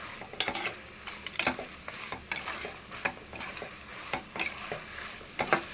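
Mutton curry (kuzhambu) is sautéed in a pan with a spoon that scrapes and knocks against the metal in an irregular rhythm of close, sharp clinks over a soft sizzle, with no talking.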